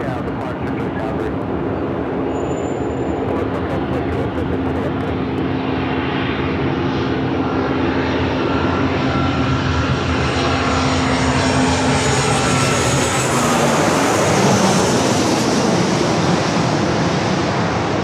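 A jet airliner departing LAX for Calgary roars loudly and steadily throughout as it climbs away, its broad engine rumble shifting in pitch as it passes, with a faint radio voice early on.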